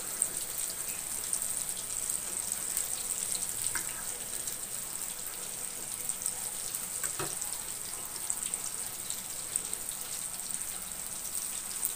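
Tortang talong, an eggplant omelette, fries in a pan with a steady, even hiss of sizzling oil throughout, close and fairly quiet with faint occasional pops.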